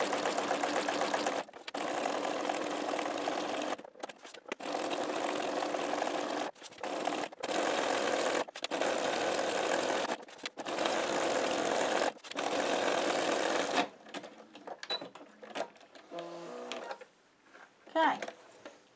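A sewing machine stitches the edges of a chenille shamrock in repeated bursts of a few seconds each, separated by short stops, then quieter handling noises at the end.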